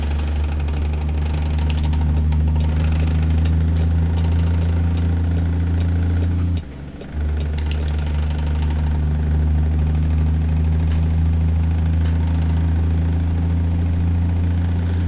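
A Kenworth W900 truck with 625 horsepower, hauling a crude oil tanker in American Truck Simulator, pulls up a Texas on-ramp onto the freeway, its engine a loud, steady low rumble with a brief dip during a gear change.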